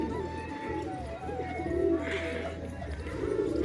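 Pigeons coo softly inside a loft, with low, throaty calls repeating over a steady rustling background for the whole stretch.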